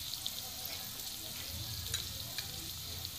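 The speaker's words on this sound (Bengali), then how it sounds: "আলুটা আমার ভালো হয়ে ভাজা হয়ে গেছে।" Potatoes frying in a pan produce a soft, steady sizzle with faint stirring scrapes, quiet and close, with no talk.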